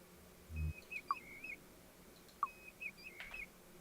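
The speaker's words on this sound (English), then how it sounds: "Oh, I learned bird sound." Faint bird calls in the cave-exploring video game Cave Explorer, short high chirps and a soft whistled note repeating a few times over a quiet background hum, with a low thump near the start.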